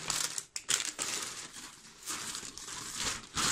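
Close, loud crinkling and rustling of a plastic AliExpress parcel bag being handled and pulled open, in irregular bursts.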